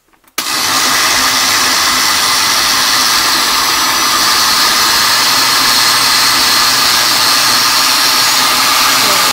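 A blender chopping diced potatoes starts abruptly after a brief quiet moment, then runs as a loud, continuous, steady motor whir for about nine seconds, close up.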